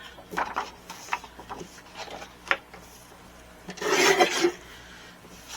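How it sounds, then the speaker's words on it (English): Folio panels are trimmed to size with a few short scraping and rasping strokes, then one longer, louder rubbing cut, close up and with no talk. "I'm just going to trim 1/8 of an inch off the other side"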